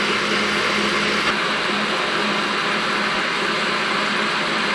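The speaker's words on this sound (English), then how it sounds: "So from this we can get the taper angle on workpiece, which is known as taper turning on lathe." A lathe doing taper turning on a workpiece gives off a steady, loud, unbroken machine whir with a dense high-pitched hum, constant throughout and without speech.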